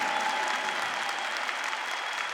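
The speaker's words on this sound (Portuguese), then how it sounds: "Pode aplaudir mais forte," Congregation applauding during a Catholic preaching event led by a priest, a dense, steady patter of many hands clapping at moderate level throughout, with no talk over it.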